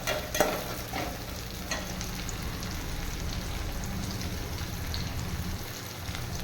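Onions for potato masala sizzle steadily in a hot pan, a constant crackling hiss with an occasional scrape of stirring near the start.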